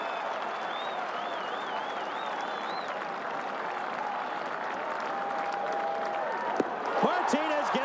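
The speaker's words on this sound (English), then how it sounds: "the crowd encouraging Martinez to strike out the side here in the 3rd" A Fenway Park baseball crowd at a 1998 Red Sox game against the Mariners cheers steadily as it urges the pitcher toward a strikeout, with broadcast commentary talking over it and the noise swelling near the end.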